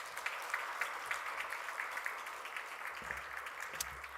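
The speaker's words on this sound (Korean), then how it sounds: "박수 한번 해줘. 격려해봐." A Korean church congregation claps in encouragement for a church elder during a sermon, a fairly faint but steady patter of applause with scattered sharper claps.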